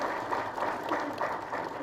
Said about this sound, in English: a big applause to Dr. Pramod Kumar Joshi through his huge experience in the field